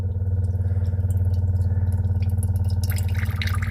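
Water trickles and drips from an Itehil water purifier over a low, steady pump-like hum, with brighter splashy drips rising near the end; no voices.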